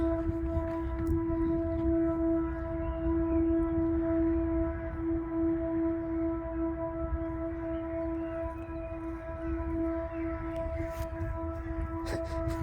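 An air raid emergency siren sounds during its yearly test, a steady distant tone held throughout over low rumbling background noise.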